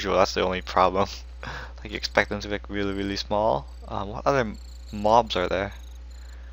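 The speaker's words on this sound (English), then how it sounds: "And oh, look, there's crickets now." Crickets chirp steadily in the background of a modded Minecraft world, a continuous high insect trill running beneath someone talking over most of the stretch.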